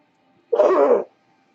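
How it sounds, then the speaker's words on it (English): A single short, sharp sneeze bursts out close by against near silence during a tabletop role-playing game session. "someone sneezed"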